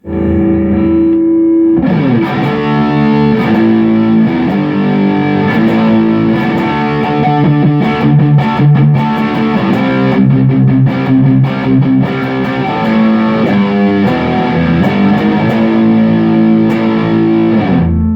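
A Gibson Flying V electric guitar plays through a Diezel VH-4 distortion pedal with its knobs set at noon. Loud, saturated high-gain chords and riffs ring out with sustained notes, heard alone.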